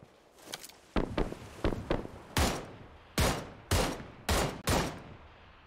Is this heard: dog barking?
no